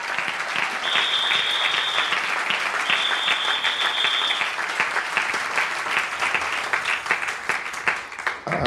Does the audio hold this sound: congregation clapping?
yes